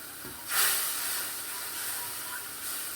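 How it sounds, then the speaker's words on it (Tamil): Jaggery syrup, already boiled and strained, simmering in a pan on the stove, giving a steady bubbling hiss with a brief louder burst near the start, close and continuous without speech. "கொதிக்கட்டும். ஒரு கொதி வந்ததும் இந்த பவுடர் ஆட் பண்ணிடலாம்."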